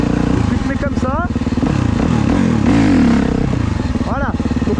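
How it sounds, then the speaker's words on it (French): A motorcycle in fourth gear during a wheelie attempt, its engine roaring loud and close and rising and falling in pitch as it bogs and revs, with a voice talking over it. "Donc là, la moto, elle a pas beaucoup levé. Elle a brouté un peu."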